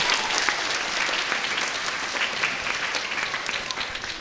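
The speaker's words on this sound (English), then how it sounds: "Give yourselves a round of applause" Audience applause at a school district spring concert for a 4th and 5th grade chorus, a dense, steady wash of clapping from a full hall, sustained loud throughout without voices.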